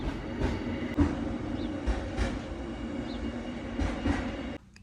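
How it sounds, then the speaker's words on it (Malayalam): A train on the Brienz Rothorn line near Brienz, Switzerland rolls past close by, with a steady rumbling roar, rhythmic wheel clatter and faint squeals before the sound cuts off abruptly. "ട്രെയിൻ ഇങ്ങനെ പോകും."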